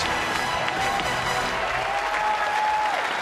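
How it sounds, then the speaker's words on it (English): A baseball crowd gives a standing ovation for pitcher James McDonald during a Twins at Pirates game, a steady roar of dense applause and cheering filling the ballpark throughout. "James McDonald got a standing ovation from the crowd."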